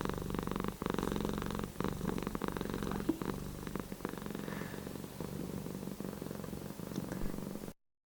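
A cat purrs steadily and close by for several seconds, a continuous low rumbling with a rhythmic pulse and no voices over it.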